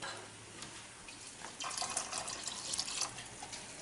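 Water pours into a pot of taco soup in a home kitchen, a steady hissing, splashing stream heard close up that grows louder partway through.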